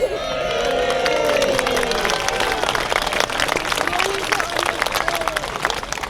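Crowd applause and cheering at an outdoor juggling show at a medieval fayre in Glastonbury, loud, dense clapping that holds steady for several seconds, with a few voices mixed in.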